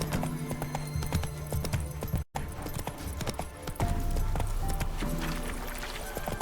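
Roach, the horse in The Witcher 3 video game, gallops with rapid rhythmic clip-clop hoofbeats, loud and close, briefly cut by a moment of silence before the pounding resumes.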